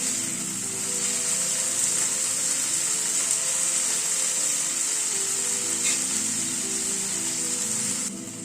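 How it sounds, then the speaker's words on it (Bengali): Tomatoes cook in a frying pan with salt, giving a steady, close, hissing sizzle that runs evenly throughout while they are stirred; no speech. "টমেটোটাকে দিয়ে মিনিট 2 মতো একটু নাড়াচাড়া করে নিলাম"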